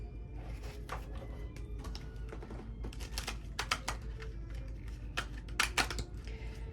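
Rapid papery riffling and flicking of stiff playing cards, in uneven bursts that grow louder toward the end, close up with no talking.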